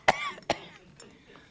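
Two sharp, close coughs from a person who has just smoked a cigarette, followed by a faint throat-clearing rasp.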